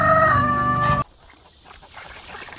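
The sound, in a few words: chickens clucking in a coop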